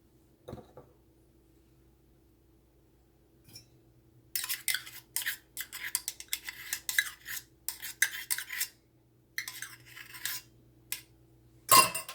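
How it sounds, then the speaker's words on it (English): Spoon scraping and clinking against a bowl while stirring meatloaf mixture, a series of irregular close taps and scrapes after a quiet start, with a louder knock at the end. "Give this a stir."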